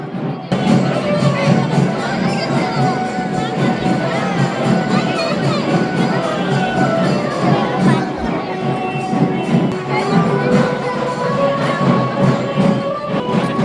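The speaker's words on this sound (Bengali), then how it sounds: "নবদ্বীপের রাসমেলায় কত ভিড় দেখো" A large crowd fills a railway station during the Nabadwip Rash festival fair. It is a continuous, fairly loud murmur of many voices and movement, with scattered shouts over it.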